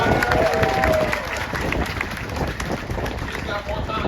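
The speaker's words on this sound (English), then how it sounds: "Let's give Neil a great big round of applause, everyone." An audience at a Gatorland alligator show claps and cheers in a steady, dense wash of applause, with a voice talking over it at the start.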